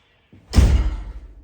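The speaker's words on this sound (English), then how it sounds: "I might just shut the door." A single door shuts with a firm thud after a faint preceding shuffle, close and fairly loud, then fades quickly with no voices.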